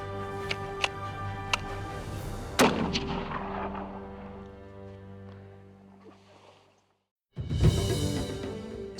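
Rifle shots fired at long range in thin, high mountain air in Kyrgyzstan ring out as loud sharp cracks with long rolling echoes that fade, then another sharp report follows after a short silence.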